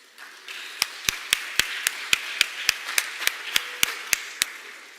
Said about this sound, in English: I just give you guys a big round of applause and congratulations on this evening.